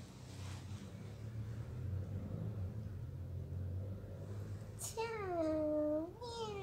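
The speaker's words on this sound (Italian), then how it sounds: "Oh, i gattini." Kittens at an abandoned urban site in Sardinia give one clear, close meow near the end, preceded by several seconds of low rumbling background noise with no other distinct sound.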